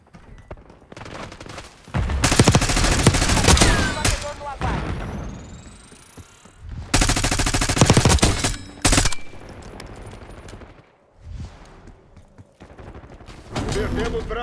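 Bursts of gunfire in Call of Duty Black Ops 6, loud rapid automatic volleys with heavy booms, arriving in several separate clusters with brief gaps between them.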